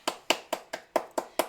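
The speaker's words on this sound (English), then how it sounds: "Real life clapping, not a sound deck." Real clapping during a broadcast of the 2023 World Youth Bridge Teams Championships: seven crisp, evenly spaced claps from close by, in quick steady rhythm with near silence between them.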